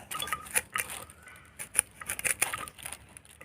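Freshly picked beans are cut with a knife for a pounded bean salad, giving a run of irregular crisp taps and snips, close up, with short pauses between bursts.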